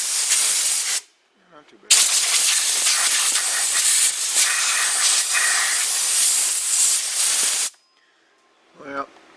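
A compressed air nozzle blows dirt off the engine pulleys of a 2002 GMC Sierra pickup, with two long, loud, close hissing blasts separated by a short pause, then a brief spoken remark.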